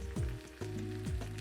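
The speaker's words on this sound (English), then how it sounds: "Now notice how the sizzle is going down" Food sizzles in a frying pan with a steady crackling hiss, interrupted by a few clanking knocks of a utensil against the pan, close and fairly loud.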